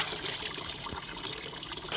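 A faulty tap lets water trickle and dribble in an uneven, thin stream, a close, fairly quiet continuous splatter with no talking.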